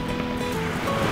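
Ocean waves wash steadily against the San Francisco shore, a continuous loud roar of surf with wind noise and no voices.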